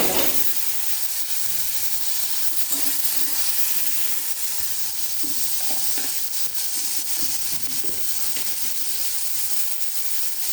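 Tomato goes into a pan of roasted gram flour (besan) and fries with a steady, loud hiss and sizzle, broken by occasional soft stirring scrapes, with no talking.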